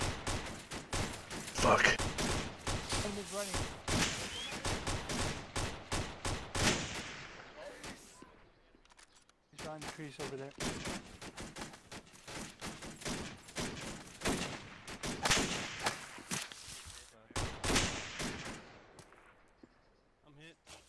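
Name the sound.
gunfire during a firefight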